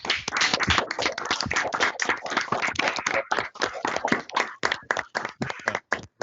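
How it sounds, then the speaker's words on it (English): A graduation audience applauds: continuous clapping from several people, close and lively, thinning toward the end, with no speech. "get another round of applause here"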